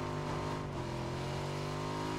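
Steady engine drone of a car or motorcycle in the PUBG battle royale game, running continuously at close range with a constant low hum and no talk over it.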